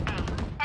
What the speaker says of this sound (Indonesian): ini ada suara tembakan